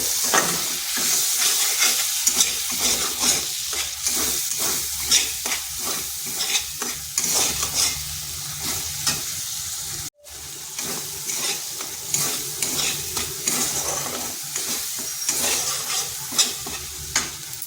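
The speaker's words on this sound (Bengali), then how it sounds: "দিয়ে দিচ্ছি পেস্ট করা মশলাটা। এই মশলাটা খুব কষে নিচ্ছি।" Ground spice paste (masala) fries in an oil-filled pan after cumin, with a constant sizzle broken by rhythmic scraping strokes of the stirring spoon, a brief drop-out midway, then steady stirring and frying resumes.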